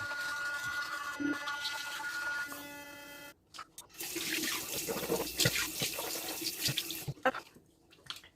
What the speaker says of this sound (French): Donc, je rince ma brosse à dents